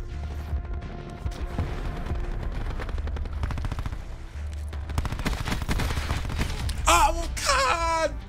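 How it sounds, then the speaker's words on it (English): Dense bursts of automatic gunfire in Call of Duty Black Ops 4, with rapid cracking shots coming in volleys, then pained groans and wails near the end, while a voice is also heard. "So many bullets, man."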